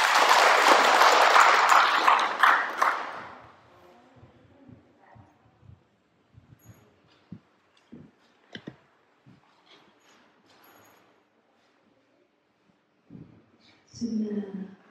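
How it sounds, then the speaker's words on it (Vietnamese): Applause from a temple audience welcoming a nun's Dhamma talk at Giác Lâm temple in Philadelphia, a loud burst of many hands for about three seconds that quickly fades, followed by quiet rustling and scattered small sounds before a voice starts. "Xin quý vị được cho một tràng pháo tay"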